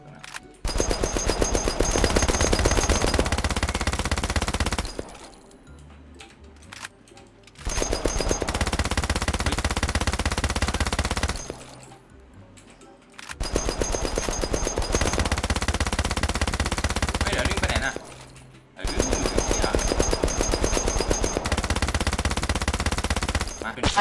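Video game machine gun hammering a boss in long rapid bursts, about four sustained volleys each lasting several seconds, separated by short quieter gaps.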